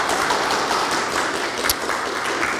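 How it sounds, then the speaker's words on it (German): Brief, dense applause from an audience at a talk on innovation, a steady wash of clapping with one sharper clap near the end. "auch vielen Dank für den Applaus"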